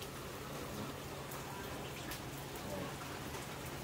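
Heavy rain pours steadily outdoors as a dense, even hiss with no breaks, fairly soft in level and with no voices.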